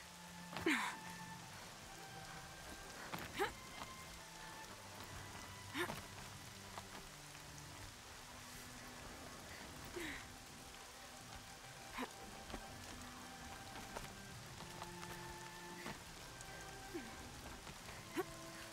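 Steady rain in the video game Horizon Zero Dawn patters throughout, with scattered louder drops and occasional sharper hits over a soft, continuous hiss.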